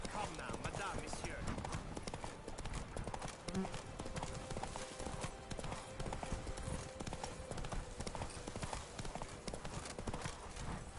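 Roach, the horse in The Witcher 3: Blood and Wine, gallops in a fast, continuous drumming of hoofbeats throughout, with game sounds mixed in and voices speaking over the action.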